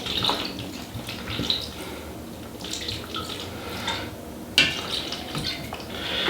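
Soy sauce glugs and trickles steadily from a bottle with its lid removed, with a few light clinks of glass and kitchenware, close by and without talk.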